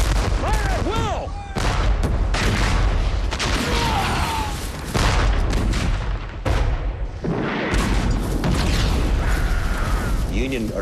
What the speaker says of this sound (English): Union artillery tearing great holes into the Confederate ranks